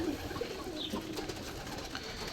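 A flock of pet pigeons cooing softly, low throaty calls rising here and there over a faint background murmur, quiet and somewhat distant.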